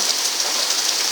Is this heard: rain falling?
yes